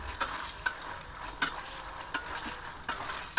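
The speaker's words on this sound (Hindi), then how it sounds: "बहुत अच्छे से फ्राई हो गया है अदरक लहसुन का पेस्ट चिकन में। बहुत अच्छे से इसको अच्छे से हिला लें।" Chicken coated in ginger-garlic paste frying in a karahi, with steady oily sizzle and periodic scraping knocks of a spoon stirring, about six strokes at a rough regular rhythm, close and moderately loud.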